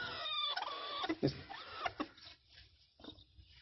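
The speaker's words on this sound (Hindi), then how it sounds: "मुर्गियाँ अंडे देने के लिए आई हुई हैं" Hens clucking in a winter coop fitted with a heater, several close, irregular clucks and squawks over a steady low background hum.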